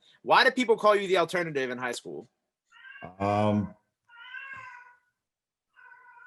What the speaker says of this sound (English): That's my cat, bro.